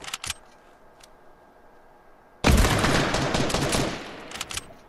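Fortnite gunfire erupts as a sudden loud burst of rapid shots that keeps rattling for a couple of seconds, after a few faint clicks in near silence.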